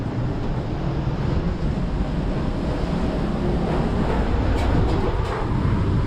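Typhoon Rolly wind and rain lashing Naga City in Bicol, Philippines; a continuous, loud, low roaring rush with no pauses, like heavy gusts and downpour pressing against a building.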